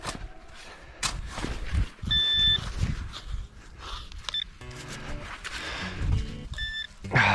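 Several short, high electronic beeps from a metal detector sound at intervals over rustling and digging noises in winter ground, with a tone that rises and falls near the end.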